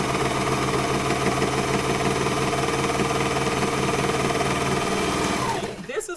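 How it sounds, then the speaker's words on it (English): A serger runs steadily while overlocking the shoulder seams of a Know Me 2050 dress, a loud continuous mechanical whir with rapid stitching pulses, then slowing and stopping near the end. "Serge these shoulder seams, and then I'm going to do the center back."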